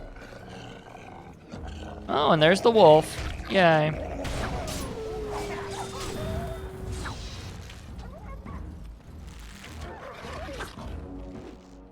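Wolves growl and snarl in the Dragon Age Origins video game, with a few loud, strained growls early on before fading into the game's ambient sounds. A person talks over the scene.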